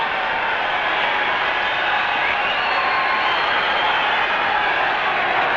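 A dense, roaring crowd fills the stadium at the 1970 All-Ireland Senior Hurling Final between Cork and Wexford, a steady wall of cheering and shouting that holds unbroken and loud throughout.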